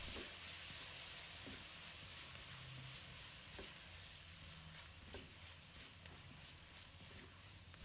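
Fried tofu puffs and celery are stir-fried with salt, chicken powder, soy sauce and oyster sauce, producing a faint steady sizzle with light intermittent stirring scrapes and no voices.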